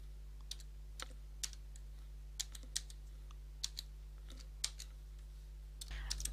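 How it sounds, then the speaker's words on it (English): A password is typed on a computer keyboard, a sparse sequence of light, close key clicks at a slow, uneven pace over a steady low electrical hum. "And now type in that same new password again."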